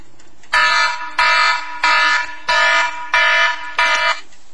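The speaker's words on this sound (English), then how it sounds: "That's some kind of an alarm there." Kitchen alarm blaring six evenly spaced loud buzzing beeps, each about half a second long with short gaps, heard alone while stuffed peppers are being cooked.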